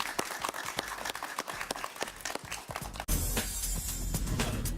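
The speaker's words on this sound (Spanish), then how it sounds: "Un aplauso para ella, por favor." Studio audience applauding for a guest on a talk show, with rapid hand claps throughout that swell into a louder, fuller burst with music near the end.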